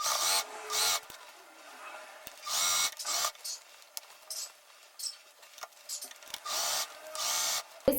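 A domestic sewing machine stitches a dress seam in short bursts, each a whirring run of a second or so separated by pauses, fairly quiet and close.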